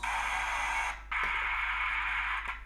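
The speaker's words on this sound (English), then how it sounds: "this white noise we will add" Steady broadband static hiss from a television set, laid into a horror short-film edit; the continuous noise briefly dips and cuts out near the one-second mark, then resumes just as loud with a couple of faint ticks.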